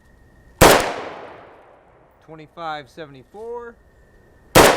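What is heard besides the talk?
rifle shots firing Battle Born .223 Remington 55 grain FMJ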